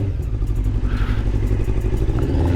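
A 1999 Honda CBR 600F motorcycle rides around an estate, its engine a steady loud droning hum close to the microphone, with mild clatter and no voices.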